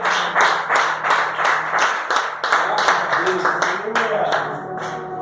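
A Pentecostal congregation claps during a healing and deliverance service, giving a run of loud, rhythmic hand claps in a steady beat, with voices and some sung or spoken sound mixed underneath.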